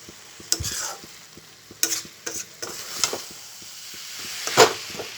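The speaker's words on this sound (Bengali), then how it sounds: "এইভাবে সমানে আমি নেড়ে যাচ্ছি" A coconut mixture with cardamom is stirred steadily in a pan for coconut laddoos, giving soft intermittent scrapes and knocks over a low, gentle sizzle, with no one speaking.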